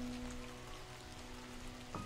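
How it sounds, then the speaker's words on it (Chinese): Steady rain falls continuously, a soft, even hiss that stays faint and distant throughout, with a low constant hum beneath it and no voices. "可是天上下雨了"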